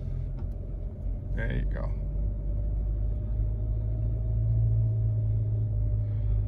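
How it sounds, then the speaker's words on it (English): A car with a manual transmission struggles at low speed, its engine giving a steady low rumble and drone while a person speaks briefly over it. "You hear how the car is slowing down and struggling?"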